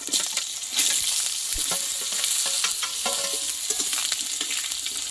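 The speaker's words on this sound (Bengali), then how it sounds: "আলুটা দিয়ে কিছুক্ষণ নাড়াচাড়া করে নেবো" Potatoes fry in hot oil with cumin, chopped green chilli and curry leaves, a loud continuous sizzle broken by repeated spoon stirs and clatters against the pan.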